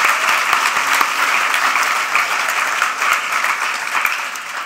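An audience at a design awards gala applauds, a dense, even roar of many hands clapping that holds steady at full strength from start to finish.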